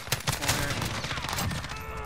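Shotgun blasts in an online shooter video game: several sharp, punchy shots crack out one after another over busy in-game noise, fairly loud and close.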